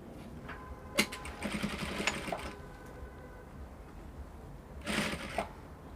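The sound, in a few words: sewing machine stitching collar to neckline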